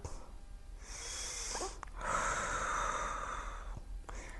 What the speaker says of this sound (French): Allez, encore 2 respirations.